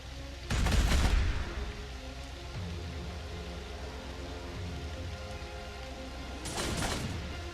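Heavy bolter fire from a Warhammer 40K-style video game, two loud bursts of rapid gunfire, one near the start and one near the end, with a steady mechanical background between them.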